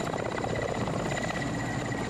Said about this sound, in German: Im Sommer ist der Hubschrauber das einzige Transportmittel.